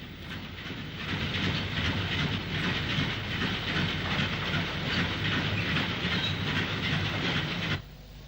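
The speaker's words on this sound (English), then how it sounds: "Crab 260 number 42812, an LMS design dating from 1926, arrives in the sidings at Crewe South with the goods." A 1926-design LMS Crab steam locomotive, number 42812, draws a goods train into the sidings at Crewe South: a steady, loud rumble of rolling wagons with hiss and rhythmic clatter that cuts off abruptly near the end.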